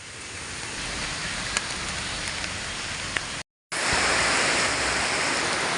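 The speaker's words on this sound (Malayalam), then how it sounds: "മഴ വളരെ കടുപ്പമാണ്" Heavy rain pours down in Wayanad, Kerala, a dense, even roar of water on surfaces that fills the whole stretch, broken only by a brief silent cut midway.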